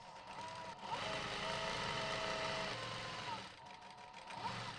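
Sewing machine running steadily while stitching the fabric lining of a drawstring backpack, a continuous close mechanical whir lasting several seconds with a brief slowdown near the end and a faint voice underneath.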